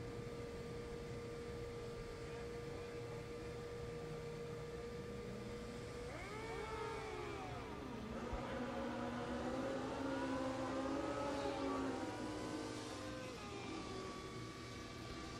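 Drag racing motorcycles, about six bikes in a round at a funny car nationals event, launching down the strip; engines rise in sweeping, overlapping revs from about six seconds and build louder through the middle before trailing off, over steady background noise.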